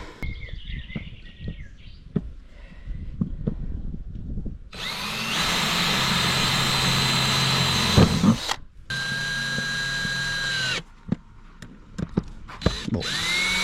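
Power drill driving screws into a van roof vent during a camper conversion, a long whirring run then a shorter burst, with scattered clicks and handling noises before and after, no speech.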